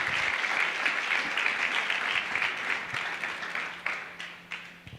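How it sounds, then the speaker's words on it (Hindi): An audience claps for a man at a bilingual English-Hindi church service, a moderate burst of applause that gradually thins into scattered claps with a faint hum beneath. "Just clap for brother."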